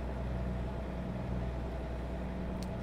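A heavy truck engine in American Truck Simulator drones steadily under load while straining uphill, a constant low rumble with no breaks, moderately quiet and heard alone.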